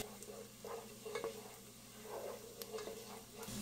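Finely chopped garlic frying in a pan for a Japan chicken recipe, with a gentle, quiet sizzle and soft repeated stirring scrapes close by.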